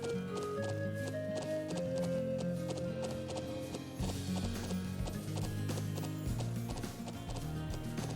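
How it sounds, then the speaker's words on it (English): Horse hooves clip-clop steadily with an occasional whinny, layered over continuous melodic background music, from the video game Trails of Cold Steel IV. "Hey, we got a bunch of horsies."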